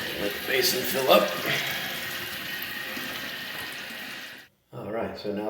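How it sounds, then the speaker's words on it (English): Water rushing and hissing into a newly replaced toilet tank, a steady close filling sound that runs for several seconds, cuts out briefly, then resumes; a voice talks over part of it. "Let the basin fill up."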